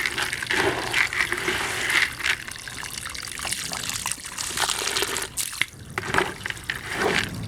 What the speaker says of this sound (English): I'm just going to wet this some, and then I normally like mix it with my hand and add water if I need to.